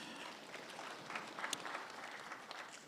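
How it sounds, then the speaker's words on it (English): Members at a savings society's special general meeting clap for themselves, a faint, distant, steady patter of applause from a room of people lasting a few seconds. "So I'd ask you to clap for yourselves for that gesture that you did."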